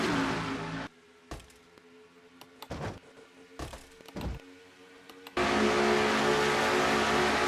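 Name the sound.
race car engines and tires, cars side by side, racing video game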